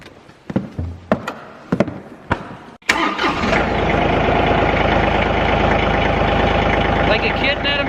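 A few clicks and clunks, then a small diesel engine on a 3038E utility tractor cranks and fires up, settling into a steady, close idle.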